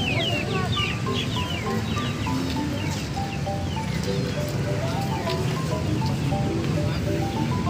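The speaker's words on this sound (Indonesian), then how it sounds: "Ini ada yang jual ayam." Chickens cluck and chirp in a busy, noisy animal market in Jatinegara, many birds at once under a constant crowd murmur.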